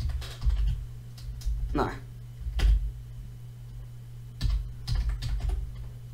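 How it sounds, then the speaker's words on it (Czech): Computer keyboard keys clatter in short bursts of typing while someone plays Minecraft, with Czech speech heard between and over the keystrokes. "Já zkusím, jestli mi jde psát."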